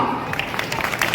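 Brief burst of audience applause at a state-level softball tournament prize ceremony, steady clapping from a crowd filling the whole moment with no clear voice on top.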